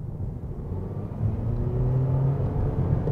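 A Toyota Prius hybrid's engine starts up under sudden acceleration after running in EV mode, a low rumbling hum that swells and steadies into a smooth drone heard from inside the car.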